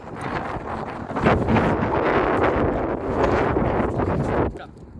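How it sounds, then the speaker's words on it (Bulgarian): Strong wind buffets a phone microphone outdoors, a loud, continuous roaring rumble that swells and eases for several seconds before dropping off near the end. "ако знаете колко е силен вятъра"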